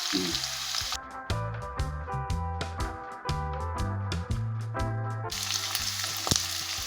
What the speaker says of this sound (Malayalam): പച്ചമുളക് ഇട്ട് കൊടുക്കാം നമുക്കൊന്ന് വഴറ്റിയെടുക്കാം അതിൻ്റെ കൂടെ കുറച്ച് കറിവേപ്പില